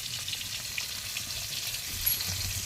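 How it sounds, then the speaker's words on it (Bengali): Fish fry in hot oil with a continuous dense sizzle and crackle, steady and close throughout, with no speech. "কাকা মাছ ভাজছে।"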